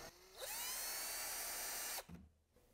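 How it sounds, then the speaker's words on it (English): A power drill whines steadily at high speed for about a second and a half, drilling a hole for a skid plate on a Polaris RZR Pro R 4, then spins down and stops, followed by a few faint handling clunks. "create a little dimple for the drill bit, and then just drill it out"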